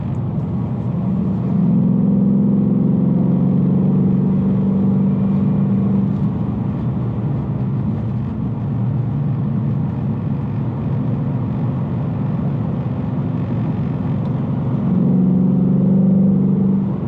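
Steady, loud engine rumble from a 2019 Ford Mustang GT on a test drive, a low continuous drone with swells at the start and end as it accelerates, with no talking.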